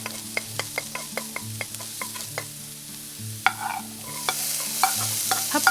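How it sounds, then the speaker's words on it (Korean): Vegetables and button mushrooms stir-fried in a pan, with a steady run of clacking utensil scrapes and taps over a soft background sizzle that swells louder toward the end, with no talking. "어느 정도 익었다 싶으면 다른 야채도 모두 넣어서 함께 볶아주세요"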